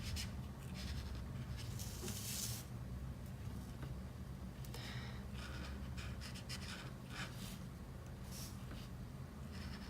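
A light blue graphite pencil colours in a drawing, a soft continuous scratchy rubbing close by with a few brighter strokes, under faint steady background hum.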